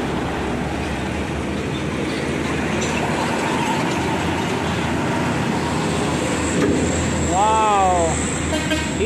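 Hino heavy truck with a heavy load rounding a bend, a loud steady roar of engine and road noise that swells toward the end, with a few squeals and an excited voice over it.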